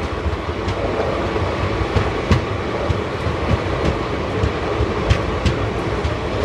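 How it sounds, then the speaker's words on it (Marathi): Fully loaded South Central Railway freight train of box containers rolling past, a steady close rumble with rhythmic clicks and clacks of wheels over rail joints, no talking. "दक्षिण मध्य रेल्वेची मालगाडी आहे ही."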